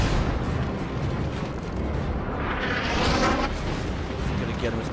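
Warship guns firing in World of Warships, aboard the battleship New Mexico: a constant heavy rumble of distant salvos and explosions, with a swelling roaring burst midway, and a voice talking over the din.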